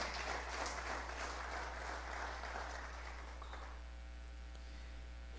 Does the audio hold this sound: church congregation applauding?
yes